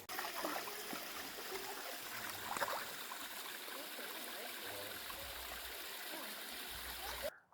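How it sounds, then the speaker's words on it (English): Rushing water pours steadily, a constant broad splash and hiss close by, cutting off abruptly at the end. "A cool waterfall there."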